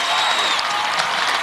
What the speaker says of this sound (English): Applause and pride from husband Mark.